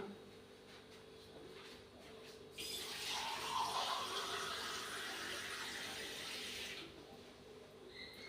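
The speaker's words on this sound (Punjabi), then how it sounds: "ਪਾ ਇਹਦੇ ਵਿੱਚ ਪਾ ਰਹੇ ਹਾਂ ਜੀ ਪਾਣੀ" Tap water runs into a cooking pot for salted rice on a gas stove, starting after a quiet moment and gushing steadily for several seconds before cutting off.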